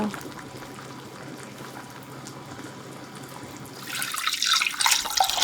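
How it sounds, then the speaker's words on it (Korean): A pot of beef eye of round simmers in water with broth ingredients, a low bubbling murmur that swells into louder hissing, splashing water in the last second or so. "물에 소고기랑 육수 재료 넣고 1시간 이상 푹 삶아주고요."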